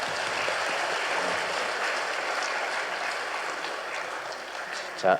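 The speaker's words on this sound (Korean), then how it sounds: "박수 한번 더 쳐줍시다." A congregation applauds at a Sunday church worship service: a steady, dense wash of clapping holds at an even level for about five seconds, with one brief louder burst at the very end.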